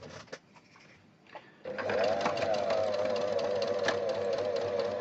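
After soft handling noises, a sewing machine starts stitching a small Christmas tree decoration, its motor settling into a steady, close, humming whir with rapid needle ticking for several seconds.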